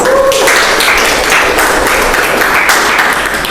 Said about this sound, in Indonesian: Tepuk tangan lu, apresiasi untuk Hafiz.